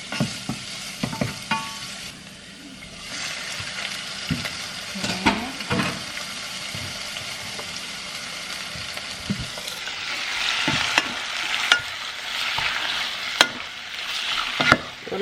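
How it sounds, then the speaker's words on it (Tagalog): Ginger, garlic and onion sautéing in a pan, a steady sizzle with scattered clinks and scrapes of stirring, louder and busier in the final seconds, no voices. "Ang bango ng ginger, at saka garlic and onion ba. Pag igisa mo,"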